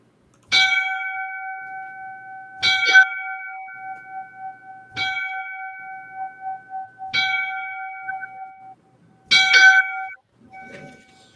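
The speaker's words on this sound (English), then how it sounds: "So we will now ring the 5 bells out for our brother Rodney Pitts in Baltimore." Five distinct bell strikes ring out for a firefighter's line-of-duty death memorial, each a clear, resonant clang with a long sustained hum, spaced about two seconds apart and heard alone, the last one sounding slightly doubled.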